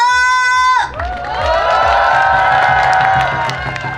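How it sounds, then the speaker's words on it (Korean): An audience at a lively Korean pumba street performance with album sales claps and cheers loudly, a dense burst of hands and whoops rising after a sustained whistle or voice tone and holding steady close by. "자, 박수와 함성!"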